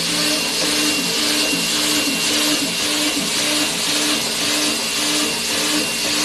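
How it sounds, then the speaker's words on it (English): A CNC end mill combined with a thread mill cuts a counterbore and thread in one pass, making a loud, steady, even machining whine and hiss with no pauses. "this end mill in combination with a thread mill is basically creating the counterbore and the thread in one pass."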